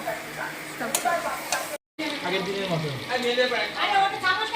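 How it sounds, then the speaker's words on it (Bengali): Chicken being sautéed with masala spices in a pan, steady sizzling with occasional scraping and stirring knocks, while someone talks over the cooking throughout. "মশলার সাথে মাংসটা ভালো করে কষিয়ে নিতে হবে।"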